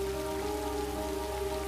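Heavy rain pours down steadily, a dense continuous hiss of drops striking surfaces close by, loud and unbroken with no voices over it.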